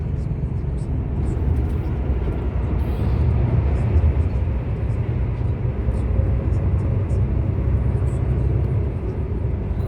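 A car driving along a road in France toward Italy near Nice, entering a tunnel with oncoming traffic: a steady, loud low rumble of engine and road noise runs throughout, and no one speaks.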